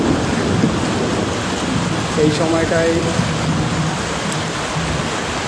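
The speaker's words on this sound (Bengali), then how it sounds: "আসলে এই সময়টা প্রচুর বিদ্যুৎ চমকাচ্ছে" Heavy rain pours steadily during a thunderstorm in Malaysia, a dense continuous wash of noise. Someone speaks briefly over the downpour.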